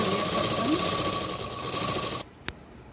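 A sewing machine stitching blouse fabric runs in a fast, steady mechanical whirr up close, then stops abruptly, leaving a brief sharp click in the quiet.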